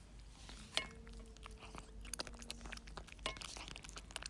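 Close crunching and chewing of crunchy gizzards and giblets, with irregular crisp bites and soft wet mastication sounds, quiet and without speech.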